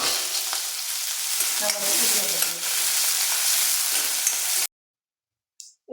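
Ingredients for a tempering fry and brown in hot oil in a pan, giving a loud, steady sizzle with some stirring, which cuts off abruptly near the end. A voice speaks briefly under the sizzle.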